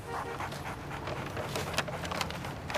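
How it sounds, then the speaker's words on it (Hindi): A newly adopted pet dog named Diamond pants quietly and close by in a soft, rhythmic run of quick breaths, with faint whimpering-like tones now and then. "ये मेरा नया डॉगी डायमंड"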